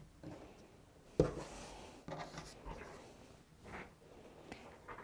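Rotary cutter or blade trimming the edge of a fabric quilt block against a ruler, a soft close scraping rasp with a sharp contact at the start and gentle rubbing strokes after.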